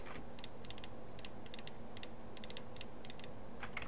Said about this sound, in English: I'm just clicking and then double clicking to get the full ring. So click, double click, click, double click.